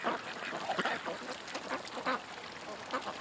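A group of ducks near a deck on a windy day, giving repeated quacks in uneven bursts, fairly close, over a background of wind and with no voices.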